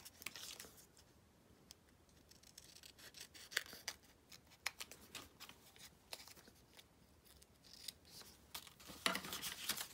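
Scissors snip through a paper bingo card in a long run of short, close, crisp cuts with light paper rustling between them, no voices.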